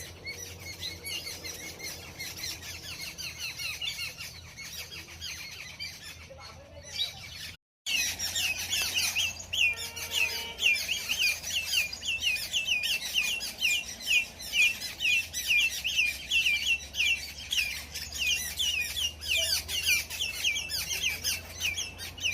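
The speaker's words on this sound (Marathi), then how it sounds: "पक्ष्यांचा नुसता आवाज" A dense chorus of birds on a farm chirping and squawking continuously, many calls overlapping at fairly close range, with a brief gap partway through.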